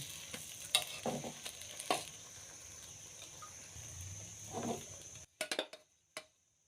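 Egg with bitter melon fries in a pan over medium heat, a faint continuous sizzle broken by scraping stirs and spatula knocks, ending in a few sharp utensil clinks after the frying sound cuts off.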